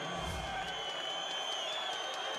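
Basketball arena crowd at a Gran Canaria–Panathinaikos game reacting to a flop, a steady roar of many voices spread across the whole arena with no single loud burst.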